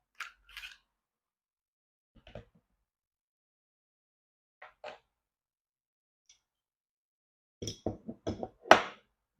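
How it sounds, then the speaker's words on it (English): A Glock 48 pistol is taken apart on a tabletop, giving sparse metallic clicks and knocks in short bursts separated by silence, ending in a quick cluster of snaps and clacks close up. "I'm gonna go ahead and take apart this gun real quick."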